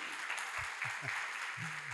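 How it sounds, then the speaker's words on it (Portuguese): A round of applause from a small group at an agricultural field day in Caiapônia, a steady wash of clapping lasting a couple of seconds with a few faint voices murmuring underneath. "Salva de palmas para eles também"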